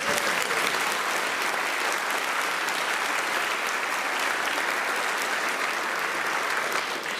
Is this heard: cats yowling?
no